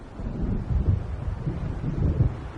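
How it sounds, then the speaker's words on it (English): Low, rumbling storm ambience from Alan Wake Remastered, with a steady wind-like roar and faint swelling thunder rolls building in the distance, heard alone without voices. "It seems there's a storm coming."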